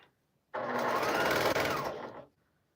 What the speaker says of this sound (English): So I am sewing the 3 pieces together.